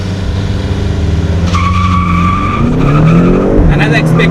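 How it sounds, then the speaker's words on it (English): BMW X6 and M5 launch side by side in a drag race on an airbase runway at sunset, engines roaring and tires squealing as they pull away, with rising revs and skidding loud and close. "we are ready to have one final drag race"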